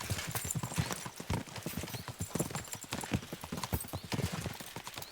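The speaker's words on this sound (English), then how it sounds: "We should spur the horses on!" Horses galloping in Kingdom Come: Deliverance II, a fast, dense clatter of hooves close by, continuous and loud throughout with no talking.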